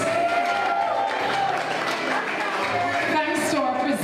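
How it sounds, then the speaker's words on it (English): Sustained applause from an audience at a 2025 prize giving and awards ceremony greets Principal Honor Roll awardees, a dense, even wash of clapping with some voices mixed in. "We invite a rousing round of applause for our Principal Honor Roll"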